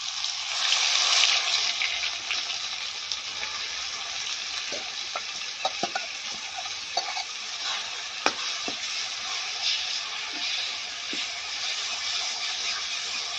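Cumin seeds and ground masala sizzle in hot oil for a Punjabi white chickpea curry, a steady close crackling fry with scattered sharp pops and spoon-stirring clicks throughout.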